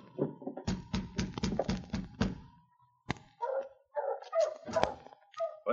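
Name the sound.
dog barking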